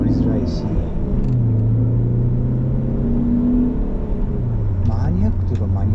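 A used Alfa Romeo 147 2.0 TS engine rumbles steadily while driving, with shifting, rising and falling drone as it pulls, loud inside the cabin under someone talking.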